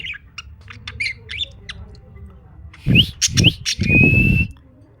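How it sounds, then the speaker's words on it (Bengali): A male parrot in a breeding colony gives several loud, close, harsh squawks in quick succession, mixed with brief whistled notes, after softer chirps from other birds in the background. "এই যে ছেলেটা খুব ডাকাডাকি করতেছে"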